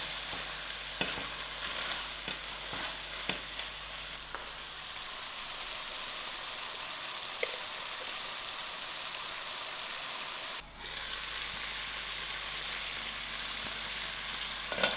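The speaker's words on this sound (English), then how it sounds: "I'll mix this all together and let it simmer for about 5 minutes." Chicken and mushroom stir fry simmers in a pan with a steady, close sizzle and crackle, dotted with a few light clicks and taps of stirring, briefly dipping once before the frying continues.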